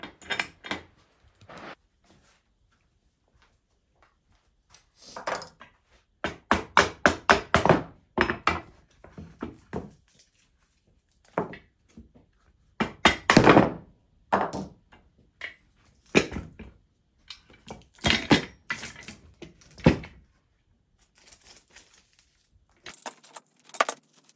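Stuck side pieces and clamps being knocked and pried off a wooden end grain chopping board in a workshop: bursts of clattering, clanking metal and wooden thunks come in irregular clusters, separated by quiet gaps.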